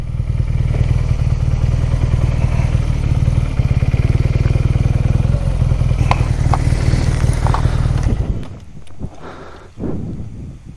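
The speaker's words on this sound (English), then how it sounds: "Let me just park the bike here." A BMW R nineT motorcycle rumbles loudly and steadily at close range as it rolls in, then the engine cuts off near the end, leaving quieter clatter and ambient sound.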